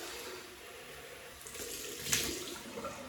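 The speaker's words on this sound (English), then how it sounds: "Cold water rinse." A bathroom tap runs steadily for a cold-water rinse during a wet shave, with a soft, even hiss of water splashing into the sink and a slight splash near the middle. No voices.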